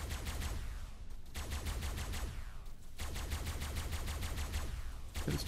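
Rapid automatic fire from a tech rifle in Ark, loud and continuous bursts of sharp shots with brief pauses between volleys, echoing in a cave raid.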